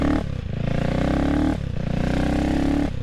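A CCM Spitfire Six motorcycle ridden through twisty roads, its engine droning loud and steady with a dip in pitch as the throttle rolls off around half a second and again near one and a half seconds, then pulling strongly again.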